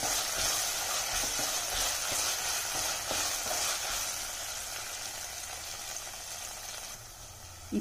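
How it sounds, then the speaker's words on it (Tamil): Ginger garlic paste sautés in a pan for mealmaker biryani, a soft, steady sizzle with faint crackles running throughout, quiet and close with a small knock at the end. "ஆட் பண்ணிவிட்டு நல்லா வதக்கிடுவோம்"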